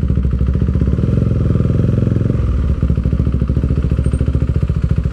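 A motorcycle engine runs steadily up close while riding through traffic in a barangay on a hot summer day, with a continuous rumbling drone and a brief dip partway through.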